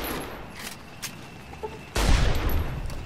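A caravan shotgun fires in Fallout New Vegas, a loud booming blast erupting after quieter gameplay, with a couple of softer distant shots before it.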